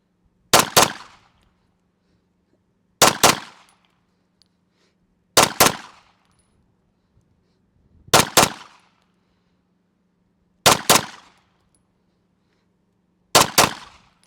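Sig Sauer P211 GTO pistol fired in quick double taps, six pairs of sharp loud cracks spaced evenly a few seconds apart, each pair followed by a short ringing decay over a faint steady hum.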